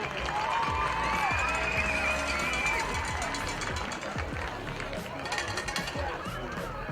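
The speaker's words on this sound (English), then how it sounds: "Let's give a big round of applause for the Springboro cheerleaders." Crowd at a youth Pee Wee football Superbowl claps and cheers for the cheerleaders, a sustained outdoor mix of applause, shouts and chatter with scattered individual claps near the end.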